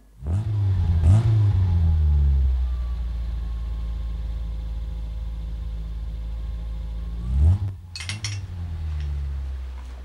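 A car engine is started with a brief rev, then settles into a steady low idle for several seconds before a second rev and some faint clinking, heard close up.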